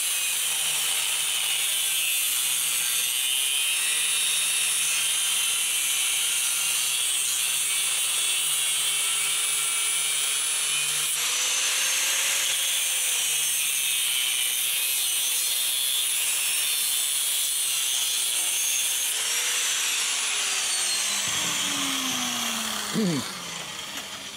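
Metal being sawn for a Honda CB250 motorcycle build, a steady continuous rasping cut that runs without pause for over twenty seconds, loud and close, ending with a brief scrape.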